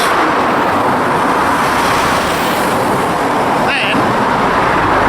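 Road traffic runs beside a wide walking path next to a motorway on the northern stretch of the Lancaster Canal toward Kendal: a steady, fairly loud roar of cars with one vehicle swishing past near the end.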